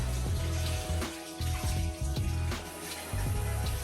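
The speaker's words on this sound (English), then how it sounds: "I'm going to wash my hands again" Hot water running from a kitchen tap as hands are washed under it, a steady broadband splash with brief shifts in flow as the hands move through the stream, close and fairly loud.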